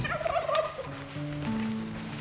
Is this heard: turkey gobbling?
yes